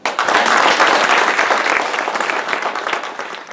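Conference audience breaking into loud, dense applause, many hands clapping together close and strong from the start, then easing off gradually over a few seconds.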